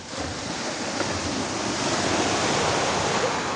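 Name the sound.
sea waves at the shore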